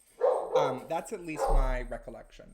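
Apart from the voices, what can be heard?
dog barking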